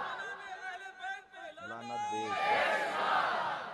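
A crowd at a religious Jashn celebration chants slogans in unison, a few strong rhythmic shouts of many voices followed by a swelling, roaring cheer that fills the space.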